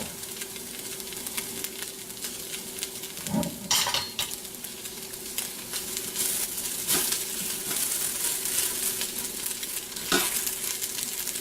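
Hash browns browning in an Instant Pot, a steady close sizzle with occasional scrapes and knocks of a utensil stirring against the pot, no talking.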